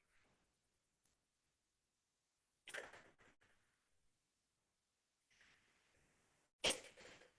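A single sharp sneeze in a quiet courtroom during a hearing, preceded by a soft intake of breath, then a brief rustle and a second loud burst near the end, with near silence in between.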